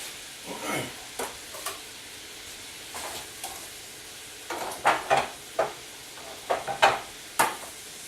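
Onions caramelizing in a pan while cooking liver and onions: soft sizzling with intermittent stirring scrapes and clinks, a series of short bursts close by with no voices.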